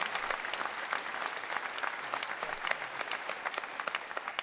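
Audience applause fills a gala hall after an acrobatics choreography, a steady wash of many clapping hands at moderate distance with no voices over it.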